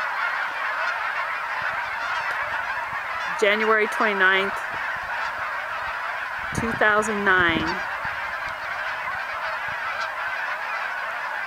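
Thousands of geese landed in a cornfield honk in two loud bursts over a steady background chorus of distant calls, with brief speech in between.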